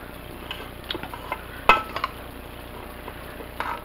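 A spoon stirs rotini pasta salad dressed with vinaigrette in a pan, making soft scraping and clinking sounds, with one sharper knock partway through.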